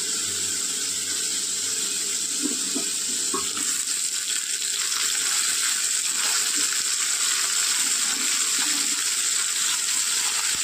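Chopped onions fry in hot oil, a steady close sizzle that holds continuously, with occasional faint stirring sounds in the pan.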